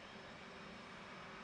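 Aircraft engine spooling up during a left-engine start in the DCS World flight simulator, a steady broadband whine and rumble at low level, continuous for the whole moment with no talk over it.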